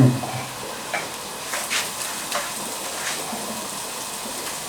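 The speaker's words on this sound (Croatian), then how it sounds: "Ugreje se ulje i stavi se ovaj luk da se dinsti" Onion sautéing in heated oil, a steady close sizzle with occasional soft stirring scrapes throughout.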